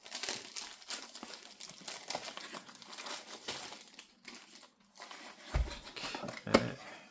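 Plastic wrappers from Star Wars CCG Premiere and Jabba's Palace booster packs crinkle and rustle in dense, continuous bursts close to the mic as the packs are torn open and handled, with a couple of sharper crackles near the end.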